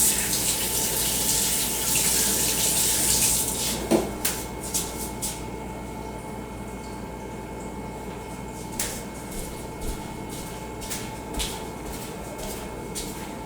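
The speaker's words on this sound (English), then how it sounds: "Rinse them off at least." Hands are rinsed under a running kitchen tap while baking banana bread. The water rushes steadily at first, then gives way to softer splashes, drips and small knocks of handling in a quiet room.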